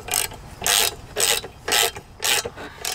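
A wrench ratchets on the bolt of a Mantus M2 anchor to tighten and compress a lock washer, giving five loud, close bursts of rapid clicking with short pauses between them.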